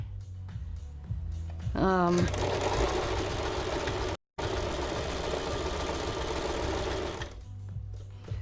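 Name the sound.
sewing machine stitching fabric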